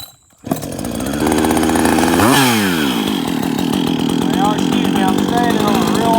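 A new Husqvarna 562XP chainsaw is pulled over, fires up and revs, then settles into a loud, buzzing high idle close by, with a voice speaking over the engine.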